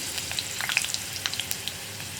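Mustard seeds splutter in hot oil as dried red chilies are added for a cowpea curry, giving a faint sizzle with scattered sharp little pops close by.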